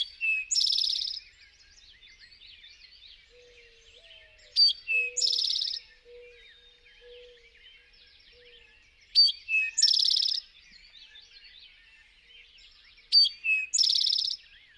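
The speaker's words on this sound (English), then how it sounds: "This is one of my favorite birds, the eastern towhee" Eastern towhee song played from a recording, four clear, bright phrases spaced a few seconds apart, each a short note followed by a rapid trill, over near silence.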